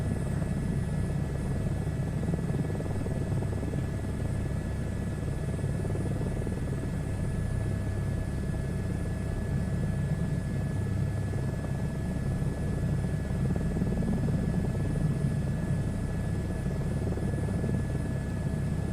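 Helicopter flying in a VR flight video game, a steady droning rotor and engine hum with a faint whine, continuous and even throughout with no talking.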